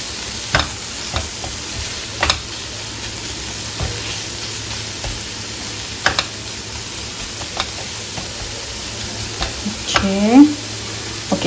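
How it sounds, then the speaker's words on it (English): Spices frying in oil in a pan for Bengali prawn curry, a steady soft sizzle broken by scattered clicks and taps of a spoon stirring, fairly close. "So you need to keep frying it for some more time."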